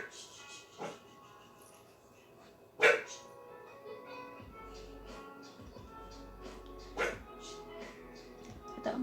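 A pet dog barks indoors near the house, a few sharp separate yips and barks spread over several seconds against a quiet room hum.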